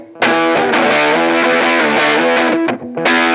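An electric guitar runs through an effects pedal with the tone knob cranked fully clockwise, giving a bright, thick distorted chord that sustains loudly and alone, briefly cuts out, then strikes again.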